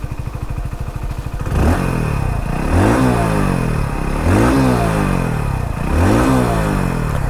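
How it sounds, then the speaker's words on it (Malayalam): A Hero Splendor Plus XTEC ticks over at idle, then its exhaust rises in four repeated throttle blips, each swelling and falling back, close and clear with no talk. "ഒരു റൗണ്ട് പോകുന്നതിന് മുന്നേ ഇതിൻ്റെ എക്സോസ്റ്റ് നോട്ട് കൂടെ ഒന്ന് കേൾപ്പിച്ച് തരാം."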